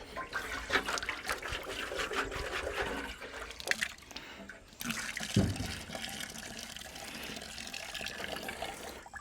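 Water rinses out of a Harley-Davidson motorcycle gas tank during prep for sealing, a continuous splashing, gurgling pour with a louder gush midway, close and fairly loud.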